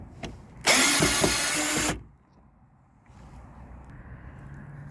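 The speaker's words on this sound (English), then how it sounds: "I've got a drill to do that with, so I'm gonna go ahead and get those off." A cordless drill drives out a screw from an International 3000/4000 series truck turn signal housing in one loud whirring burst of over a second, followed by quiet handling sounds.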